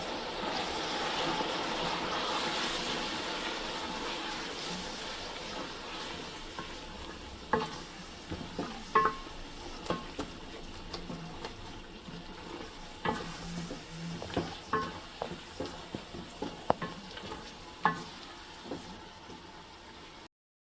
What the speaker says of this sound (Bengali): মশলাটা এখন তেল ছেড়ে দিচ্ছে, আর একটু কষাই নিয়ে আমি মাংসটা দিয়ে দিলাম।